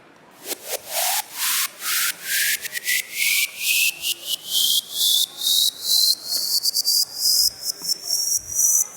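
Soloed riser effect from an electronic beat, a gated, chopped noisy sweep that climbs steadily in pitch over about nine seconds, pulsing in rhythmic bursts and growing brighter as it rises, heard alone and fairly loud.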